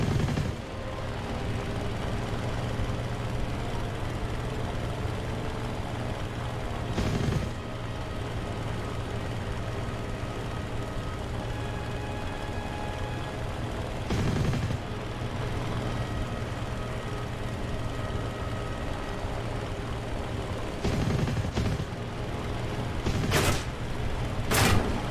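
Aircraft gunners keep up long, sustained machine-gun fire in an air combat flight-simulation game. It is a dense, continuous rattle over a steady engine drone, with sharper louder bursts breaking through every few seconds.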